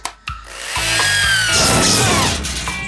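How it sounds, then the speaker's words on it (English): A cartoon power drill revs up after a couple of clicks, whining loudly with rising, slightly wavering pitch and a gritty mechanical buzz, held steady for a few seconds close up. "Drill."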